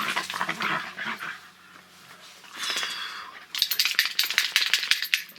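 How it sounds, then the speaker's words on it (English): Several dogs fight down below, giving rapid, scuffling snarls and yelps in uneven bursts that grow louder and more frantic toward the end, heard at a middle distance with no talk over them. "there's some dogs fighting down here."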